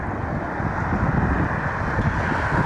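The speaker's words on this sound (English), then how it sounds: "Citation inbound." Steady broadband roar of a Citation business jet inbound at Cleveland, a continuous engine rush mixed with wind buffeting on the microphone, loud and unbroken throughout.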